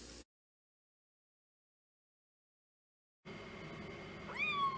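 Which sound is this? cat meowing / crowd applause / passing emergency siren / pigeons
cat meowing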